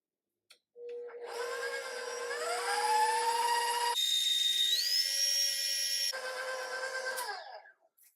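An electric stand mixer creams butter for an eggnog pound cake, its motor whirring in a high, rising whine that shifts pitch as the speed changes, running continuously for several seconds before winding down.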